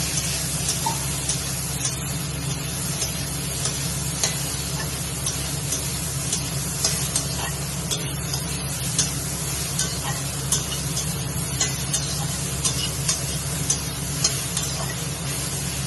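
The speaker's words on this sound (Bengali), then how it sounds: "এবার এই তেলে আমি সয়াবিনটা দিয়ে দেবো" Salt-boiled soybean chunks frying in oil left from potatoes, a dense continuous hiss and crackle that stays loud and even throughout, with occasional light stirring clicks and no talking.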